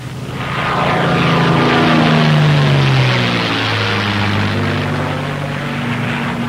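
A P-51 Mustang propeller fighter roars steadily up close as it is pulled into an accelerated stall, its engine drone holding loud with a slowly falling, shifting pitch throughout.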